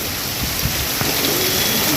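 Heavy monsoon rain pouring down steadily as a dense, hissing wash, close and continuous for the whole stretch with no voices.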